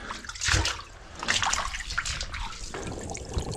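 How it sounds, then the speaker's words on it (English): Water gushes and trickles down a drain pipe into the ground at a large backyard grease pit, with uneven splashing surges and a continuous watery rush, close by. "the water just goes into the ground like that"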